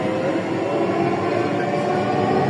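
A Dhaka metro rail train waits at a station, its steady electric hum and rumble filling the platform loudly and continuously with no speech.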